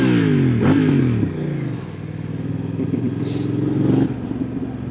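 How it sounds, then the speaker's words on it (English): A BMW F900R motorcycle fitted with an Arrow exhaust revs up sharply and drops back, then settles into a rough idle before climbing in a second, smaller rev. The exhaust is close and loud. "It gives you an excuse to rev your motorbike."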